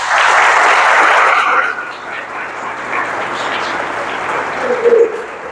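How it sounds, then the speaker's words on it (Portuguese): A church congregation bursts into loud applause that softens after a couple of seconds into scattered clapping, with a voice briefly heard near the end. "Dê uma salva de palmas para o Senhor."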